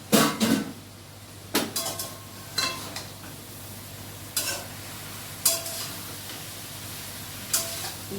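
Shredded cabbage stirred and fried in a pan, giving soft sizzling with a series of sharp scraping stirs and clinks spaced a second or two apart, fairly close and moderately quiet.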